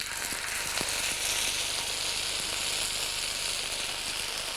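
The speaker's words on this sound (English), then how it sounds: "And then you put them into the frying pan." Ginger-coated steak sizzles in a frying pan over high heat, with a steady, dense crackle and occasional sharper pops throughout, close and fairly loud with no talking.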